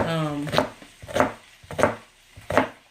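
Four evenly spaced knife chops cut through an onion on a board, each a sharp, close thud about two-thirds of a second apart, with a brief hum of voice at the start.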